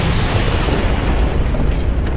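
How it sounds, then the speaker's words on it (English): A blue lyrium explosion in the video game Dragon Age Inquisition, heard as a loud, sustained rumbling blast that roars evenly across the whole moment with no voices over it. "Oh yeah, a nice blue lyrium explosion."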